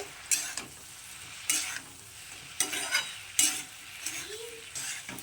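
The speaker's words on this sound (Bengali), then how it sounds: "মাছটাকে দিয়ে আমি এখন এর সঙ্গে খুব ভালো করে মিশিয়ে নেব" A spatula repeatedly scrapes and stirs fried puti fish into a vegetable chorchori in a pan, giving a handful of sharp strokes over a low, steady sizzle.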